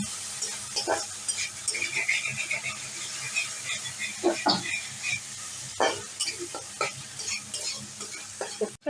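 Taro curry being sautéed with turmeric and spiced water in a pan, stirred steadily with a soft continuous sizzle and scattered sharp scraping clinks of the spoon against the pot, close and moderately loud.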